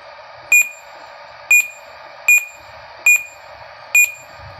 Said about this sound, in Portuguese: vamos desabilitar esse bip que é muito chato